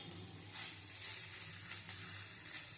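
Grated boiled potato is added to ginger, garlic and green chili frying in a kadai, giving a steady, close sizzle with light stirring and no talking.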